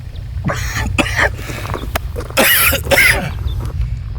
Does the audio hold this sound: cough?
yes